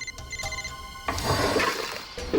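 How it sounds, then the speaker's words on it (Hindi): A mobile phone rings inside a drawer, its short repeating electronic tones heard for about a second before clattering, rummaging noises take over. "फोन कहां बज रहा है?"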